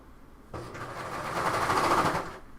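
A sewing machine stitches a top in one continuous close run of about two seconds, its rapid mechanical whir rising and then cutting off, with nobody talking.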